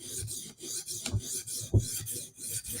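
Sharpening stone drawn along a knife edge: a few short, close rasping strokes in an uneven rhythm, each a soft gritty scrape with brief gaps, quiet and alone.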